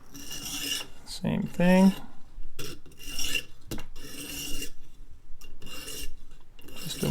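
Serrated knife blade being sharpened, repeated rasping strokes of metal against a sharpener in short bursts, close and fairly loud, with a brief spoken remark between strokes.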